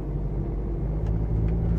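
An automatic car accelerating as the gas pedal is pressed: a steady, close engine hum and low rumble that builds slightly over a couple of seconds, with no talking.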